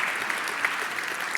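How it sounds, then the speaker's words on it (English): A hacker conference audience at 38C3 applauds in a brief, even burst of dense clapping that holds steady throughout, with no voices on top. "applause for Exhain"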